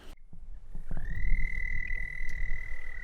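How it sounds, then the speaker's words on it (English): A red-spotted toad gives a sustained, high, steady trilling call at a breeding site after dark, loud and close, with faint clicks and rustles before it starts. "So we've got some red-spotted toads that are breeding."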